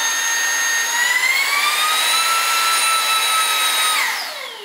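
A DIBEA FC22 cordless vacuum cleaner runs with a loud, high-pitched motor whine that holds steady, rises slightly in pitch, then begins to wind down near the end, heard alone and close.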